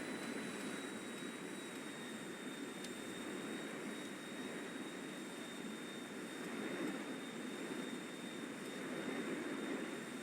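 A steady, continuous aircraft engine roar in a video game flight, a constant broadband drone with a thin high whine, holding at an even level throughout with no talk.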